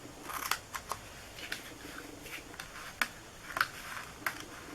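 Scissors snip paper for a homemade holiday money box, a handful of sharp, faint, separate cuts spaced irregularly in a quiet room.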